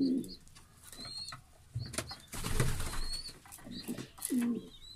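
Homing pigeons and young squabs coo in a loft, low throaty calls repeating at intervals alongside wing flaps and shuffling, close and moderately loud, with no speech.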